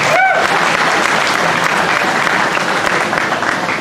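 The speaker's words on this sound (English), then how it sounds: "Give yourself a big round of applause" A crowd at a livestock sale gives parents a big round of applause, a loud, sustained, even roar of many hands clapping, with a brief whistle-like sound at the start.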